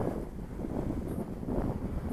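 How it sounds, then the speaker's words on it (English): Steady blustery wind buffets the microphone outdoors where a small RC thermal glider is flown, a loud continuous rumbling roar without speech. "It's got a bit blustery again"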